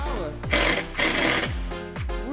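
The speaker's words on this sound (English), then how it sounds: "you're just putting a really long wood screw in" A very long wood screw being driven in, most likely with a power driver: three or four loud, close whirring bursts that each rise in pitch, separated by brief pauses.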